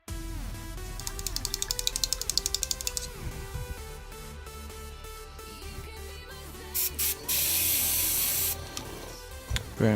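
An airbrush sprays ivory paint in short bursts, a soft hiss that starts and stops several times, with a longer spray near the end, quiet and close, over faint background music.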